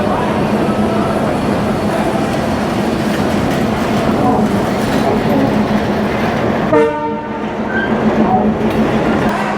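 The Rupashi Bangla Express from Khulna at platform 7 of Kamalapur railway station rumbles loudly and continuously, with a brief horn-like tonal blast near the end and a voice talking over it.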